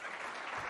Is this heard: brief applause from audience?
yes